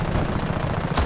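Rapid tank or machine-gun fire in War Thunder, a steady rattling burst of repeated shots lasting about a second with a heavier thump at the end.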